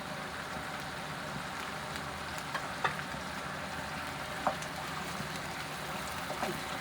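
Chicken masala with salt, turmeric, crushed red chilli, coriander and tomatoes frying in a pan, a steady low sizzle with a few faint scrapes of stirring, fairly quiet throughout.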